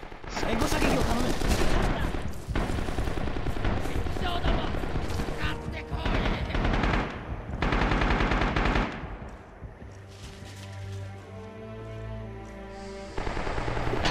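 Mounted machine gun firing in the video game Rising Storm, with dense loud bursts of automatic fire and explosions in the first half, then quieter scattered shots under voices.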